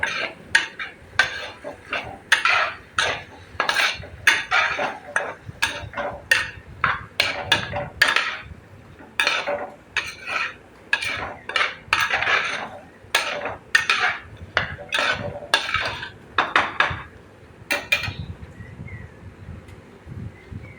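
Cherries being sautéed with chili powder for a vinegar-free pickle, a utensil scraping and clattering against the pan in quick, irregular strokes close by, with no talk.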